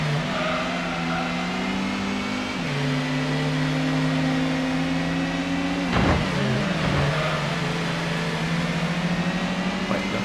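Racing car engine in the 1998 PlayStation game Gran Turismo, a sustained whining drone with a gear shift partway through, then a brief burst and the pitch climbing again, loud and continuous.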